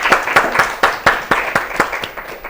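A studio audience claps for a young girl contestant on a Ethiopian children's talent show, a sparse group of individual claps in a loose rhythm, close and fairly loud, with no talk over it.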